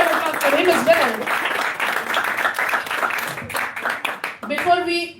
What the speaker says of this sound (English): Big round of applause for him as well.